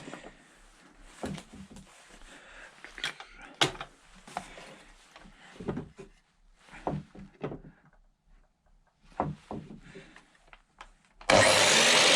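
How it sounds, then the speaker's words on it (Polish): Rough, rhythmic sawing strokes rasp in uneven bursts, close by, with pauses between cuts and a sudden loud noise at the very end. "mam okazję pierwszy raz używać piły"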